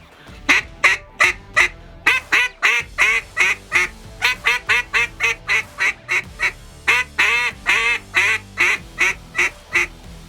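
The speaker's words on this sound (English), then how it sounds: "That quack even almost has a poppy low end, which is really cool for finishing ducks" A duck call blows rapid, loud quacks in bursts of rhythmic series, close and punchy, each note sharp and nasal with a poppy low end.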